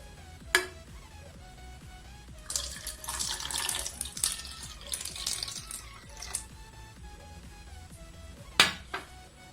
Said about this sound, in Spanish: Ahora veremos qué es lo que pasa cuando se le echa agua